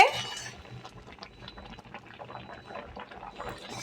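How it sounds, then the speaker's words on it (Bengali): Mung dal simmering in a pot of water, a soft steady bubbling and gurgling close by, continuous throughout with a slightly louder burst at the start. "মুগ ডাল ফুটছে"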